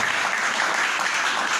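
Church congregation clapping together in sustained, dense applause that fills the space evenly from start to end, with no break and no distinct voices rising above it.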